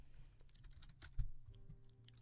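Keyboard typing in a horror visual novel game, a quiet run of light, quick key clicks with one heavier thump partway through.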